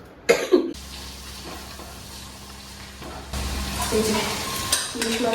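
Food fries in a pan in a home kitchen, a quiet steady sizzle that grows louder partway through, broken by a few coughs and brief stirring clatter.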